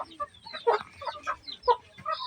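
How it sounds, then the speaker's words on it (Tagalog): Native chickens at feeding time cluck and cackle in quick, overlapping calls close by, a busy, steady chatter with no voices over it. "So papakain tayo ng mga alaga nating manok."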